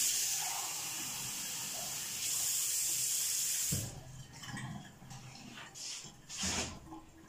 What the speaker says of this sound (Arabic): انا نزيد شوية هنايا الماء يكون طابخ.